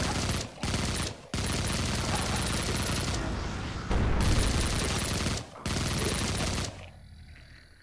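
Rapid Uzi gunfire in the first-person shooter Project Warlock, dense continuous bursts broken by a few short gaps before dying off at the end, loud and close.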